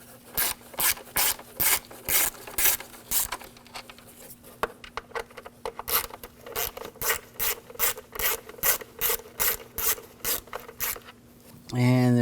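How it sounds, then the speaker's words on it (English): Close, rapid ratchet clicking as a 5mm hex socket backs out cover screws on a BMW 328i engine, steady bursts of pawl ticks broken by short pauses, with faint scraping of tool on metal. "we're going to take these screws out for the cover"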